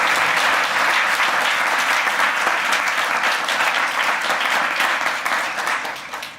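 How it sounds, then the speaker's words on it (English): An audience at an anniversary event claps steadily and loudly throughout, a dense wash of applause that tapers off near the end, with no talking over it. "So if we could give them all a round of applause."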